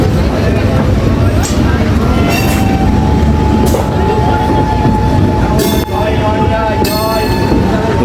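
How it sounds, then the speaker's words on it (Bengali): A local train pulls out of Ranaghat station and crosses from one line to another, with loud rumbling wheels, rhythmic clatter over the points and several high metallic squeals close by. "দেখেছো, আমরা একটা লাইনে আরেকটা লাইনে আমাদের ট্রেন চলে যাচ্ছে।"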